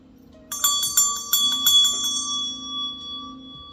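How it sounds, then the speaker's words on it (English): A meditation bell is struck several times in quick succession, bright ringing tones piling up and then sustaining into a long, shimmering decay, fairly close and loud over a faint low hum, with no talking. "I'm definitely going to ring my meditation bell"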